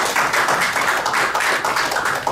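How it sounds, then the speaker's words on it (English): Steady, dense applause from a press conference audience congratulating the Chinese media, loud and continuous throughout with no voices over it. "Let's give them a round of applause."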